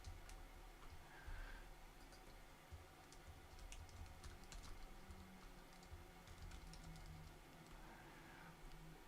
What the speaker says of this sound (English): Switch views so you don't see me typing.